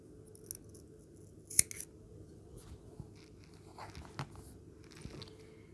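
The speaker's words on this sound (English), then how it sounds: "Instead, we're gonna go ahead and cut our yarn." Scissors snipping crochet yarn during a small bag project, a quiet close snip among faint handling rustles with a few soft clicks.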